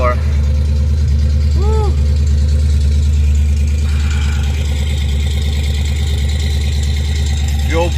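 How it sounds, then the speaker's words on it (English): A Ford Fox Body Mustang engine runs at a steady, loud idle throughout, its low rumble continuous, with a man's brief exclamation and other voices over it. "So I'm going to start the car."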